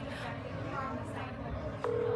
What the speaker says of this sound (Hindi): we are calling them and he is continuously rejecting our calls